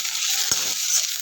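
Mint leaves and tamarind sautéing in a pan for mint thokku, a steady close sizzle with a brief stirring scrape partway through.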